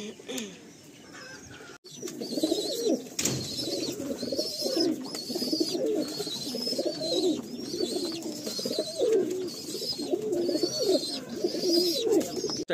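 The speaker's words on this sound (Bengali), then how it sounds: "দাদার লফটে তো প্রচুর পায়রা" Pigeons coo steadily inside a racing pigeon loft, a close, repeated chorus of soft throaty calls overlapping one another with a few faint chirps and thumps.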